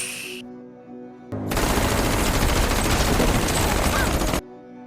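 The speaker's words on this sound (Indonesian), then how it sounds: "Mereka semua lalu diberondong peluru hingga tewas." Sustained machine gun fire from a gangster film, a loud, dense burst of rapid shots lasting about three seconds after a brief quiet lead-in, then cutting off abruptly.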